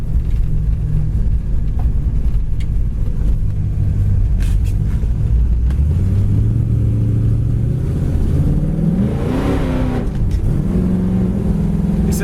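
A restored 1967 Chevelle Super Sport V8 rumbles loudly while driving down the road, a steady deep drone that rises through an acceleration and shifts pitch near the end, heard from inside the car.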